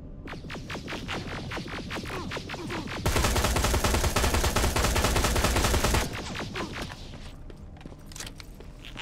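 Turret gunfire in the Terminator Resistance video game: rapid repeated bursts build into a dense, loud three-second stream of continuous automatic fire, then give way to more scattered shots.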